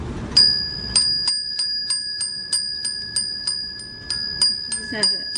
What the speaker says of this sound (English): The children love to have them just to ring them and listen to the different notes.